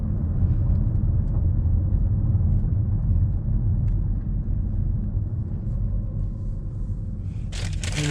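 Steady low road rumble inside a 2013 Chevy Malibu ECO cruising at night, a continuous close drone with a brief brighter noise near the end.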